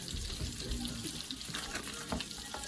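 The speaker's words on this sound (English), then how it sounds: "The water is boiling for the brown rice." Water boiling in a pot for Uncle Ben's whole grain brown rice, a steady bubbling hiss and gurgle heard close and fairly quiet throughout, with no talk.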